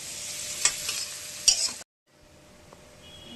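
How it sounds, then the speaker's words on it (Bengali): Spices are stirred into fried onions and tomato paste in a pan, giving a sizzle with a few sharp utensil scrapes and clinks. It cuts off abruptly midway to a much quieter, faint background. "এবার মশলাটা আমি দিয়ে দিচ্ছি।"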